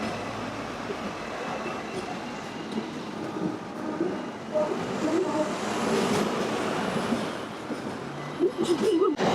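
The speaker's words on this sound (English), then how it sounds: "If you're in Hong Kong, you need to ride the ding ding." A Hong Kong tram in motion, with continuous rumbling wheels and rolling rail noise that swells toward the middle, plus faint squeals and clanks near the end.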